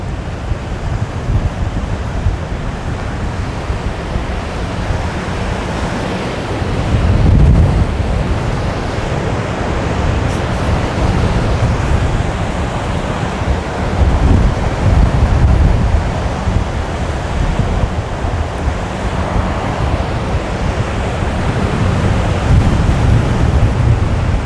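Big ocean waves crash and surge at Haulover Inlet, a steady roar of surf with gusting wind noise across the microphone and louder swells breaking around the middle and later stretches, no voices.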